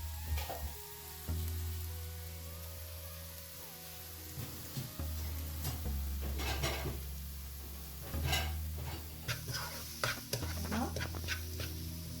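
Onions sautéing in a pan while being stirred, a steady close sizzle broken by scraping utensil strokes and clinks against the pan, with a low hum underneath.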